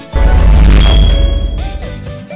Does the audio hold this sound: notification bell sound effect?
yes